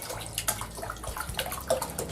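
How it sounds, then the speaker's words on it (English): Natural source water poured into a bowl, a soft trickling splash with small drips, steady and close for about two seconds. "Add some natural source water in a bowl."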